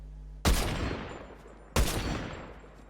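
Two loud gunshots from Fortnite rifles, an assault rifle and a sniper, each a sharp close blast with a long decaying tail, about a second and a half apart, no talking.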